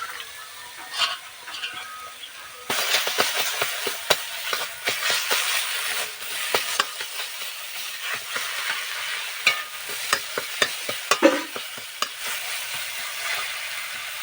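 Ground dried fish stir-fried in a hot wok, with loud steady sizzling and frying hiss joined by many sharp scraping and stirring clicks of a spatula against the pan, continuing close and busy throughout.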